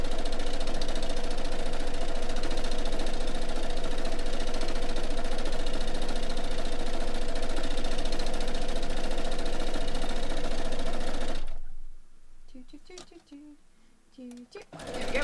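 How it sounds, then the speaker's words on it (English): A sewing machine runs continuously while stitching fabric for dog beds, a steady mechanical hum and rattle that cuts off abruptly near the end, leaving quiet room sound with faint movement. "Last bit of sewing."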